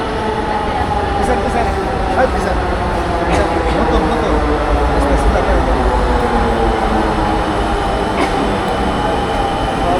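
A Dhaka metro rail train pulls into the station with a loud, steady rolling rumble and whine that fills the whole stretch, with faint chatter from people on the platform underneath.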